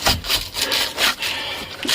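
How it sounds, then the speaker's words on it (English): A screwdriver scrapes and peels stuck-on material from the bulkhead of a rusty Auto Union F102, rough rasping strokes in an uneven rhythm, close and loud. "We're just getting under it with a screwdriver"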